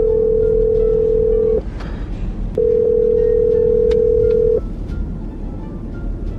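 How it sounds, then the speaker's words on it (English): Two long steady phone ringback tones sound loud and clear, the first about one and a half seconds, a short gap, then a second lasting about two seconds, over faint background rumble, while someone calls from a parked car. "Let me call him."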